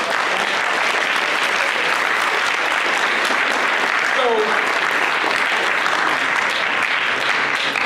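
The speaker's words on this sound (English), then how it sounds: "as they exit the stage, please give them a round of applause." Sustained applause from an audience at a student leadership summit, a dense wash of clapping that holds steady and loud for the whole stretch.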